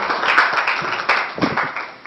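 Brief clapping from an audience at a live broadcasting workshop, a short irregular burst of hands with a few sharper claps, fairly close and loud.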